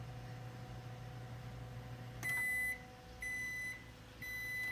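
A microwave oven heats an agarose gel solution with a low, steady hum, then gives three loud electronic beeps about a second apart once it stops.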